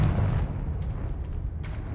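A Confringo fire spell cast in the Hogwarts Legacy video game erupts as a loud, heavy boom, then rolls into a sustained low rumble with scattered crackling bursts near the end, close and continuous over two seconds with no voices.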